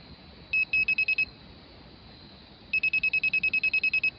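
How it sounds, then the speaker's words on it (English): Laser level receiver clipped to a measuring staff beeping in two bursts, a short run of about six quick beeps then a longer run of about twelve evenly spaced tones, loud and close with no talk. "When the laser runs across here, it'll beep either slower or faster depending whether I'm high or low"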